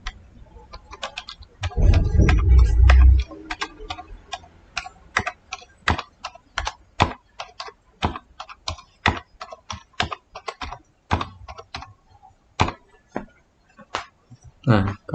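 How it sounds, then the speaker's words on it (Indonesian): Numbers being keyed into SPSS on a computer keyboard: a steady run of sharp, separate keystroke clicks over about fifteen seconds, with a brief louder low rumble early on. "Jadi di sini kita ketik 1 sampai 15. Kita ketik saja manual."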